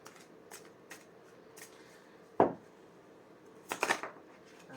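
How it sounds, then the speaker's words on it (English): Oracle cards being shuffled and pulled from a deck during a tarot reading: a few light flicks, then a sharp riffle and a short flurry of papery card snaps, close and fairly loud against a quiet room. "I'm just going to pull an oracle card to set the tone"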